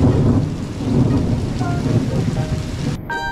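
Steady rain with low rolling thunder on a rainy day in Bacalar, Mexico, a loud continuous wash of falling water and rumble that fills the whole stretch with no talking.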